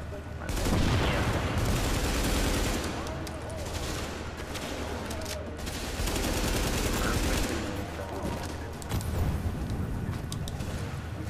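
Gunfire in Tom Clancy's The Division fills the whole stretch as a loud, continuous fusillade of rapid shots and heavy booms, with faint voices beneath.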